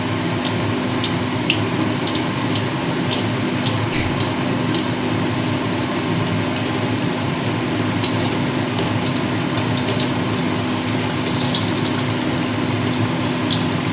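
Mango malpua batter sizzles and bubbles in hot oil, a steady, close, continuous frying hiss with small crackles and no voices.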